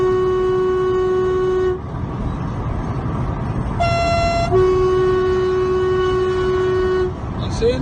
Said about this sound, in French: Le klaxon TGV, connaissez-vous? Petite manette, compression. J'active la manette.